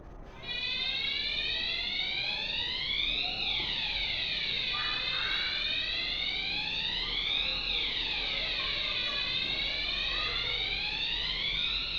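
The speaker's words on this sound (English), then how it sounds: "Fire alarm." A fire alarm sounds indoors, a loud electronic tone that keeps sweeping up and down in long repeating cycles and runs steadily, with no talking over it.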